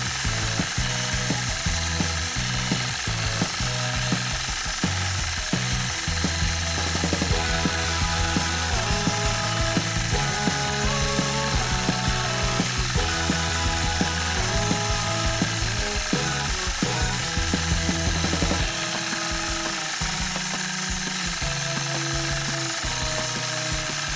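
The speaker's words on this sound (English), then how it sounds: "So I'm going to free motion quilt now a swirl into the center." A sewing machine free-motion quilts a swirl into a sunshine quilt block, its needle hammering in a fast steady mechanical rhythm that shifts speed several times and stops near the end, loud and close with no talking.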